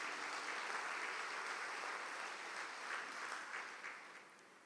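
Congregation clapping to praise the Lord during a Catholic priest's sermon, a dense, steady wash of many hands applauding at a distance that holds evenly for several seconds, then thins and fades toward the end.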